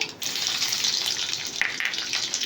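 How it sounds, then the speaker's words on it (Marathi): Cumin and mustard seeds with garlic crackle and sizzle in hot oil, a dense, continuous frying hiss close by, with no talking. "इथे जिरे मोहरी तडकण्याचा आवाज येत आहे"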